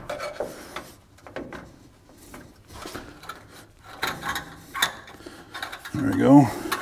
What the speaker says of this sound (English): we just take some channel locks and just kind of twist it back and forth, it'll kind of break it free